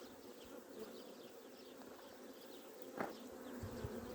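A dense, steady buzzing of many honey bees humming close by at an opened hive during spring hive inspection, continuous and low, with no one talking.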